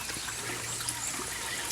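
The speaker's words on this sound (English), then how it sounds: "going ahead and flushing it while I fill this tub." Steady water runs and splashes into a tub beside a 1999 Mercury 200 EFI outboard being flushed, a continuous close hiss with no pauses or voices.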